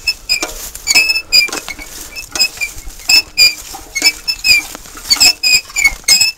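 A string of sharp, high squeaks comes in quick irregular bursts, loud and close with small clinks between them, and no talking.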